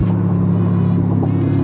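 A car is heard from the inside while driving, with a steady low engine drone and road rumble holding an even hum throughout.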